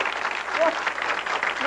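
Applause from a comedy show audience at a 1988 local stand-up set, a steady wash of clapping filling the room briefly, with a voice talking over it.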